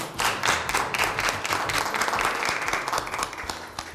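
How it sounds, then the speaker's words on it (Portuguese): Group applause for a contestant on a Brazilian family cooking competition show, dense steady clapping from a small studio crowd that holds at an even level throughout. "Receba as palmas aí do grupo"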